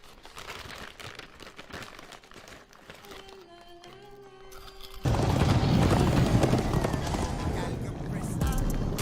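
Galloping horse hooves in a video game, a busy clip-clop under music and game noise that swells louder halfway through.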